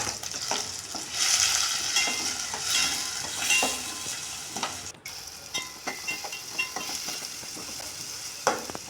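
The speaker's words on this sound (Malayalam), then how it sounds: "ഇനി ഇതൊന്ന് നന്നായി ഒന്ന് വഴറ്റിയെടുക്കാം" Onion, tomato, ginger and green chilli sauté in a pan, a continuous loud sizzle with repeated scraping stirs of a spatula, close up and without speech.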